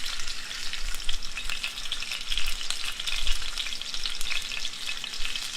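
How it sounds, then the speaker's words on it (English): Ribeye steaks searing in a hot pan give off a steady, dense sizzle and crackle that holds close and loud throughout, with no talking over it. "Now watch the magic of the sizzle."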